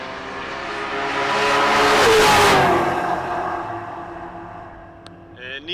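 A nitrous-equipped LS-powered Mustang launching at a drag strip, a loud engine roar building to a peak and then fading into the distance, with an announcer's voice over the race.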